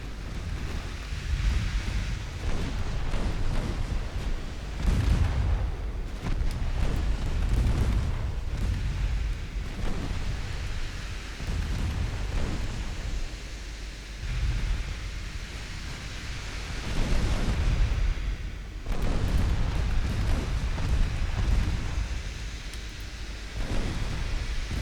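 Warship guns and shell explosions in a naval battle from Ultimate Admiral Dreadnoughts: deep, rumbling booms roll in repeatedly over a constant low roar, some near and heavy, others softer and more distant.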